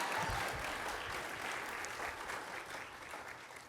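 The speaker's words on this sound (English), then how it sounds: "I heard a few claps back there" A few scattered claps from an audience at an outdoor civic event in San Francisco celebrating a family shelter, soft and somewhat distant, tapering off over a few seconds with no talk.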